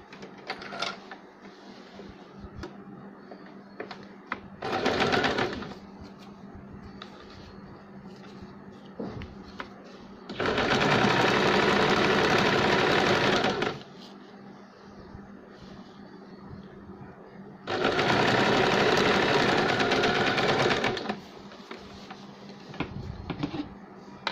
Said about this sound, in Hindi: दूसरे साइड से भी सिलाई लगाएंगे।